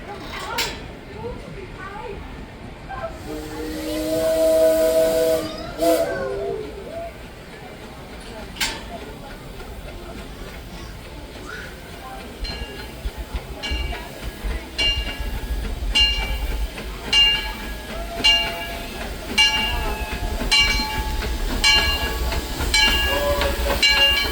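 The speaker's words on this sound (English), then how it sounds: "The Disneyland Limited now arriving from a trip around Walt Disney's Magic Kingdom" Disneyland Railroad steam train pulling into a station, with hissing steam, a whistle and rhythmic clanking of the cars that grows louder, while a public address announcement and crowd voices carry over it.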